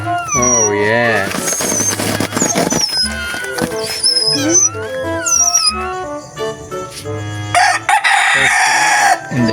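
A white rooster crows repeatedly, loud and close, over clucking chickens and other animal noises, with a person talking in between.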